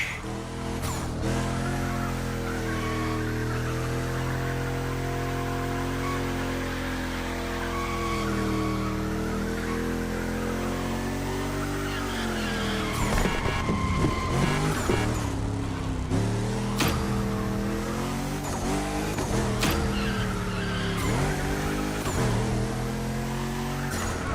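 Car drifting in The Crew Motorfest, a loud sustained engine whine with long wavering tire squeal, pitch sliding up and down through the slide, then choppier screeches and shifts toward the end, continuous with no talk.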